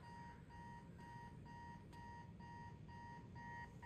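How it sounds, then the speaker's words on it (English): Electronic alarm clock in Marvel's Spider-Man 2 beeping in quick, regular bursts, faint and steady over a low ambient hum, with no voices. "His alarm clock."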